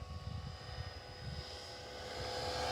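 A Blade 330S RC helicopter flies in a calmer, tamer mode, its rotor giving a faint steady whine with a pulsing low throb, slowly swelling toward the end.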